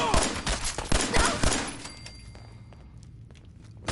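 Pistol gunfire in Fallout 4, a rapid string of sharp, loud shots in the first two seconds, then quieter scattered thumps and faint game ambience.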